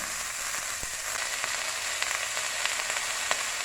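Chopped ash gourd frying in hot oil gives a steady, dense sizzle close by, with a few faint clicks and scrapes scattered through and no talking.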